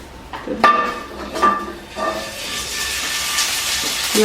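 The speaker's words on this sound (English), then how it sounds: "make sure that it is sizzling like that." Steady sizzling hiss from a hot pot searing beef bones for stock, with a few sharp metallic clinks of utensils against the pan early on.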